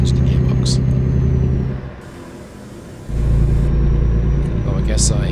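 A Mercedes-Benz MP2 truck with the OM571 engine in Euro Truck Simulator, its deep engine drone loud and steady, dipping briefly as a manual gear is shifted before pulling strongly again, with someone speaking over it.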